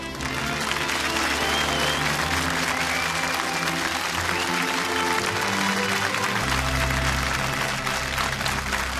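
Studio audience applause and cheering on a Belgian television show, loud continuous clapping sustained throughout over a low musical drone that shifts partway through.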